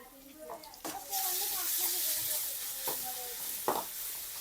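Ginger, garlic and onion sauté in a pan with a steady sizzle, punctuated by a few sharp clanks of a utensil against the pan, while people talk over it in the background.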